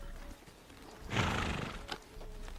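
Takhi (Przewalski's horses) let out a loud neigh that swells and holds for about a second before fading, with a shorter snort after it and faint hoof movement around, no voices.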